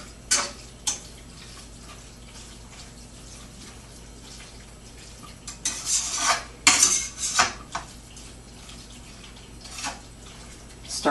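Pork pieces stirred in a pan on the stove, with scattered clinks and scrapes of a utensil against the pan, busiest in the middle stretch, over a faint steady background hum.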